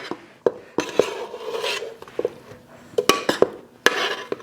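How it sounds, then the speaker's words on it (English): Potatoes in butter being stirred inside a traditional pressure cooker pot, with a close series of sharp metal spoon clanks and scrapes against the pot wall in an irregular rhythm. "now we're just going to stir to make sure that those potatoes all get into the butter,"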